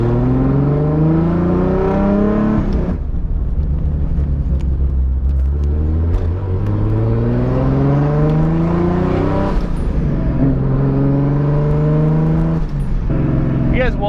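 A car with a swapped 2JZ engine revs repeatedly with the clutch feathered, loud close engine tones climbing and dropping in long sweeps from inside the cabin, with a voice speaking over it.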